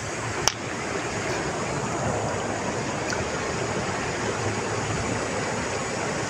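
River water at Sitio Sulukan rushes and hisses in a steady, broad wash from start to end, close and even, with a single faint click near the start.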